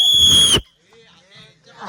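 A shrill toy whistle at a Navratri fair blows once, loud and close, for about half a second, followed by faint background voices and rustling.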